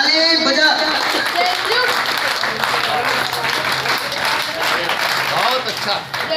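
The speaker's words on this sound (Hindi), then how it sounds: "सिर्फ स्काउट वाले ताली बजाएंगे, हाथ ऊपर, ताली बजा।" Scouts clapping with hands raised at a 26 January celebration at Madina Masjid: dense, loud, continuous clapping from a group, with voices mixed in throughout.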